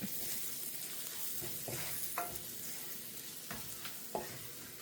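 Spice powders, turmeric and coriander among them, are stirred into an egg roast masala in a pan, a low frying sizzle running throughout with several brief scraping strokes of the spoon at uneven intervals.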